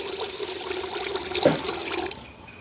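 Water poured into a pot of grain to boil it in a village kitchen, a steady splashing pour that runs for about two seconds and then stops, with a soft trailing trickle, close and fairly quiet.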